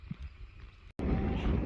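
Strong wind in Wellington, New Zealand, buffets the microphone in a steady broadband roar, near and loud, after a brief quieter stretch and a momentary dropout.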